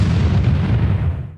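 A loud, deep explosion from a blast like an exploding drone roars out at close range and slowly fades over about a second, with no voices.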